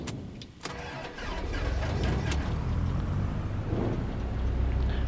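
Simulated light aircraft piston engine starting in X-Plane 12, a few clicks, then a quick catch and a steady rumbling idle that keeps running, close and even.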